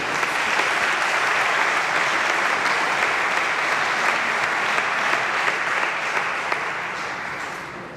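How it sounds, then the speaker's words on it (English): Sustained audience applause at a Gibraltar medallions of honour ceremony, honouring sportsmen and women, with dense, even clapping holding steady throughout before easing slightly at the end. "Round of applause for our sportsmen and women."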